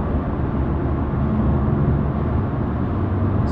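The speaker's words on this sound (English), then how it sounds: "the road noise is so much better in this than the old cars" Inside a 2022 Subaru WRX cruising on the road, a low, steady rumble of tyre and road noise fills the cabin evenly, with no talking.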